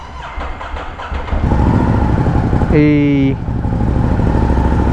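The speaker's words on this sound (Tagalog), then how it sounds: "Start natin yung bago nating motor" A new motorcycle engine runs close by and rises into a brief rev midway, set against outdoor background noise, with a person calling out and chatter around it.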